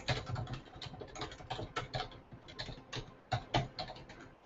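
Fingers tap quickly on a computer keyboard in uneven bursts of close, crisp clicks, with brief pauses between runs of keystrokes.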